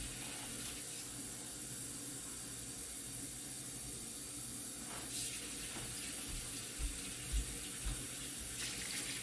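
Water runs steadily into a pot of simmering lentils in a home kitchen, a continuous faucet-like hiss and splash that holds at an even level with no talking.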